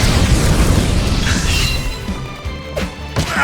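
A fire spell erupts in battle in the video game Octopath Traveler 2, a loud burst of crashing, booming flame that roars across the first seconds and then crackles down, standing alone without talk.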